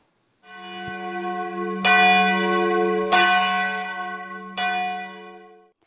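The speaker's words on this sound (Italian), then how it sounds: "quanto noi amiamo il suono delle nostre campane" A church bell in Italy rings out loud and close, with three or four strong strokes whose rich, humming tones overlap and sustain between strikes.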